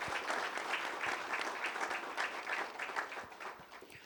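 Audience applause at a conference panel session, a steady, dense round of clapping from a crowd that carries through without break and stays fairly even in level.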